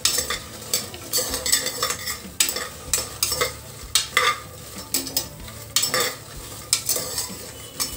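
Phool makhana lotus seeds being fried in a pan for payasam, with repeated scraping and stirring strokes against the metal in an uneven rhythm over a light sizzle, close and fairly loud.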